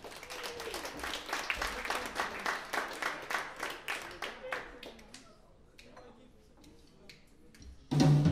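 A concert audience claps for a brass band in a hall, a moderately sized round of fairly rhythmic applause that tapers into scattered claps before a voice speaks at the end.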